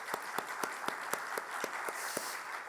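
A small group in a church gives a visiting professor a round of applause, sparse distinct claps in a steady rhythm, fairly faint and close.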